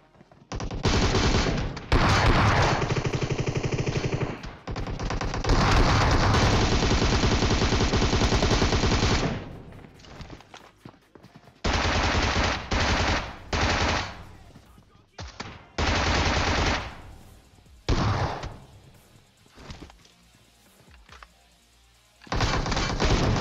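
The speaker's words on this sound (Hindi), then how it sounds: "मैं उसकी पेटी पे गोली चला रहा था" Bursts of automatic gunfire and heavy shotgun blasts from a PUBG Mobile match, coming in long loud volleys broken by short gaps, with someone talking between the shots.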